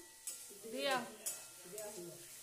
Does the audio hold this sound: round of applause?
no